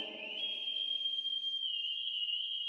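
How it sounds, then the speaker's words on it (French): A sustained whistled message in a cartoon adventure scene, used to communicate across the desert: one long, steady tone held for nearly three seconds, fairly loud and close, with a faint low murmur beneath. "entre nous, on communique en sifflant"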